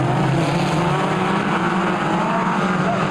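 Midget race cars roar around the Kihikihi Speedway track during a 1992 North Island championship race, a loud, continuous engine drone close by with a steady high whine throughout.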